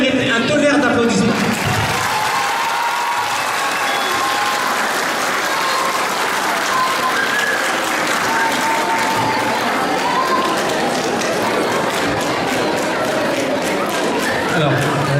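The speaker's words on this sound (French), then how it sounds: "elle mérite un tonnerre d'applaudissements" Loud, dense audience applause at a community forum festival, a thunderous wash of clapping that holds steady for about fifteen seconds, with some crowd murmur underneath.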